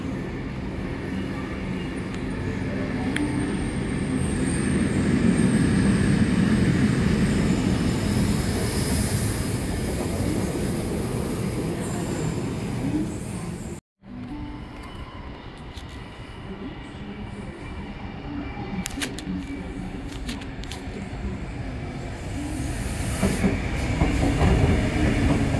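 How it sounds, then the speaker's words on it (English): A heritage train rumbles past on the rails at Arncliffe during a transport heritage expo, loud and steady with wheel noise and clatter, a brief cut midway, then continuing to roll by. "These damn heritage trains keep running early."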